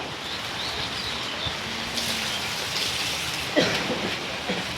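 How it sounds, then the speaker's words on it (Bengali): Soft, continuous patter of light drizzle outdoors at a livestock market in Rajshahi, even and gentle, with a faint bird call and a brief louder rustle near the end. "গুড়ি গুড়ি বৃষ্টি হচ্ছে"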